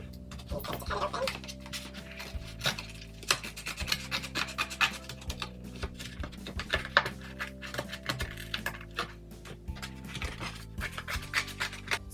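A blade scrapes and saws through a product package in close, uneven scratchy strokes with scattered clicks and rustles, while a voice speaks quietly now and then.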